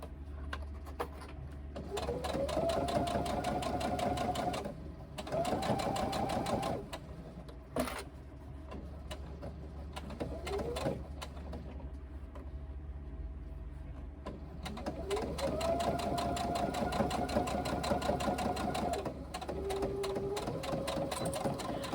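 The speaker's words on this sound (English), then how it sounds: "I stitch as close as I can to that folded edge without running off the edge" A sewing machine runs stitching along the folded edge of a reversible tote bag, with several bursts of rapid whirring stitches separated by short pauses and small mechanical clicks, close and clear.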